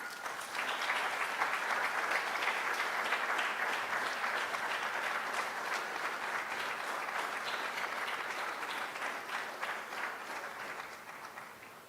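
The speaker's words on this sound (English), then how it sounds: "Please give Sister Kumba a round of applause." Sustained applause from an audience at an Albinism Awareness Day gathering, a dense, even clatter of hands that stays steady and slowly tapers toward the end.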